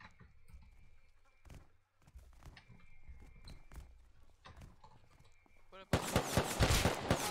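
Video-game gunfire on an oil rig: scattered sharp shots crackle quietly through the first seconds, then a loud sustained burst of rapid fire erupts near the end.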